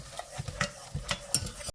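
Soft crackling sizzle of a roux in a pan as milk is added for lasagna sauce, with rhythmic scraping and stirring strokes, close up, ending abruptly.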